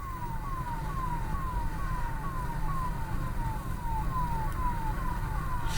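Ambulance siren on a convoy of ambulances driving from Indore to Harda, a rapid repeating descending wail cycling steadily over constant road and engine rumble, fairly loud and continuous.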